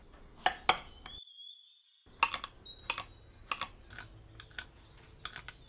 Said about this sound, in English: next we are going to chop 2 medium-sized tomatoes